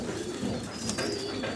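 Farm-kept fancy pigeons coo faintly within a dense, noisy loft ambience, with a brief flutter of wings partway through before the sound cuts off abruptly.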